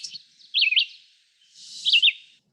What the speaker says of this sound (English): We have our warblers.